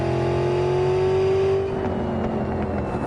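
A small car's engine revs loudly and steadily in Cyberpunk 2077, its pitch climbing before settling into a rough, sustained drone with no voices over it.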